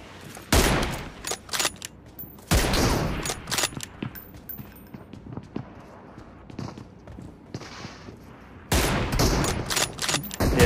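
Bursts of gunfire in PUBG Mobile, including an M24 rifle: sharp, loud shots in clusters with quieter scattered pops and footsteps between, plus brief talk.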